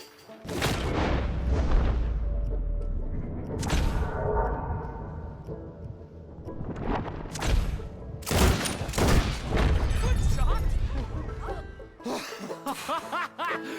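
Rapid volleys of gunfire and booming shots in a Red Dead Redemption 2 gameplay session, loud bursts repeating across the scene with brief lulls, voices and laughter mixed in.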